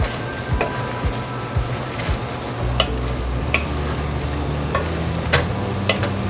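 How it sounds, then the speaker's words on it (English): Food for homemade cheeseburger macaroni sizzles steadily in a hot pan while a utensil scrapes and clicks against it in irregular strokes. "I'm not chopping up, I'm just stirring."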